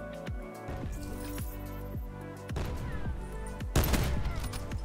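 Sniper rifle shots in Black Ops 4, several sharp cracks spread across the clip with metallic clinks and game effects between them, loud and close over a busy background.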